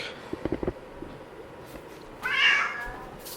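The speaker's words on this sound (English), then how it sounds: "he's gonna meow on you the whole time" A house cat lets out one clear, fairly loud meow close by, after a few soft clicks and taps in an otherwise quiet room.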